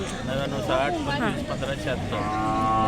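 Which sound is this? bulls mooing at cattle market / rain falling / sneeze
bulls mooing at cattle market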